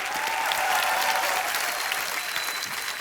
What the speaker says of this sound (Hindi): बहुत जोरदार तालियां हमारे सारे प्लेयर्स के लिए